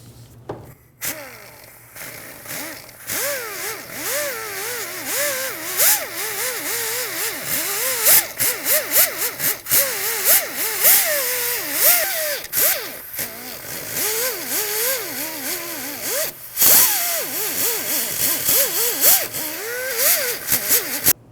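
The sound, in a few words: wire brush cleaning wheel hub mating surface, Toyota Camry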